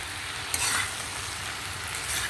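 Tomato frying in a pan while making onion chutney, a steady close sizzle with a brief louder crackle as it is stirred, continuing evenly throughout.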